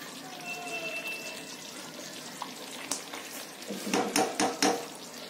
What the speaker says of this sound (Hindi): अब इस टाइम हम जो हमने कोरिएंडर लीव्स कट के रखी थी वो हम डाल देंगे और मिक्स कर देंगे इसको।